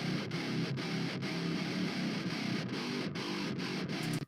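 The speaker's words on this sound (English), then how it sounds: "I took that guitar part, and I recorded it again, and I shoved it down an octave" A re-recorded guitar part pitched down an octave, heavy and distorted, a dense low grinding tone played in a steady rhythm with brief regular gaps, running for about four seconds.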